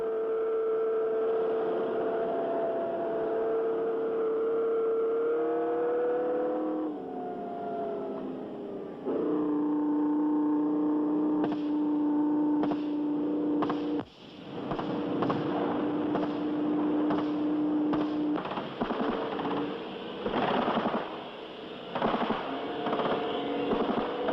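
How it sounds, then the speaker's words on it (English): Tanks drive back to their marshalling area after a training exercise, a continuous engine drone with shifting tonal whines and clanking bursts, loud and steady throughout with no voices. "the tanks return to their marshalling area"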